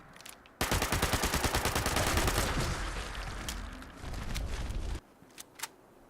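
Rapid automatic bursts from the Perfect Storm 10mm SMG in Fallout 76, a loud sustained rattle of closely spaced shots for several seconds, followed by a few scattered single reports after a brief pause.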